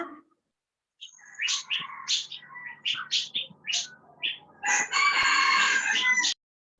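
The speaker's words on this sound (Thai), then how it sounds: "ไก่ขันก็เข้ามาในห้องเรียนของเราแล้วนะคะ" A rooster crows repeatedly, close and loud, alongside chirping birds, the recording played during a school lesson on how sound is produced; the calls come in short bursts before a long final crow that cuts off abruptly.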